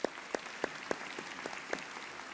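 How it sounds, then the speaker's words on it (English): A handful of scattered, separate handclaps at a University of Montevallo Founders Day ceremony honoring a staff service award winner, sparse and fairly faint, spaced roughly every third of a second. "Please join me in giving them a round of applause."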